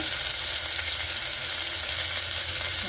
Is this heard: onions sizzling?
yes